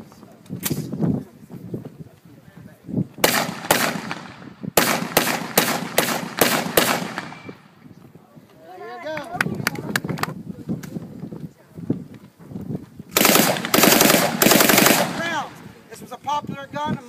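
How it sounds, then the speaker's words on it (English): A World War II-era Thompson submachine gun fires loud rapid bursts at an outdoor weapons demonstration at Fort Clinch, several rattling volleys separated by pauses, with voices heard at times between bursts. "Thompson submachine gun."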